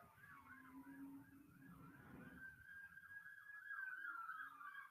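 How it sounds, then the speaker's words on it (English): Wailing emergency sirens, distant and faint, rising and falling with a yelping pattern, heard alone against a low background rumble. "You hear them sirens in the back?"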